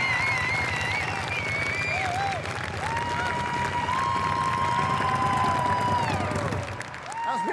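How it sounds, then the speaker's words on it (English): A Lincolnshire crowd at a wall of death show cheers and applauds steadily and loudly throughout after an opening lap by a motorbike rider, with a brief dip near the end. "And the crowd here in Lincolnshire love that one."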